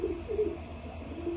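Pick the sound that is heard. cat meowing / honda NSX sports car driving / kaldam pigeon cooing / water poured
kaldam pigeon cooing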